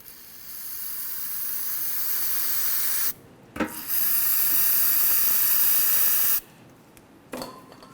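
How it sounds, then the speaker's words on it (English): Pressurized spray rinses front brake parts on a 2005-2010 Chevrolet Cobalt, heard as two long, close hissing bursts separated by brief pauses and small clicks. "I'll give it a rinse, once again being very careful for spray back."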